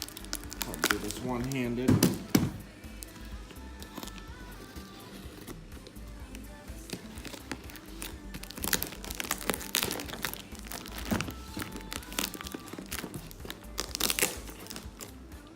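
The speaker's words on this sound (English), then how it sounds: "Let's go ahead and cut this open with a little blade." A small blade slices open cardboard packaging holding parts for a Volkswagen project, giving crinkling, tearing and crunching in bursts, loudest early on, while someone talks over it.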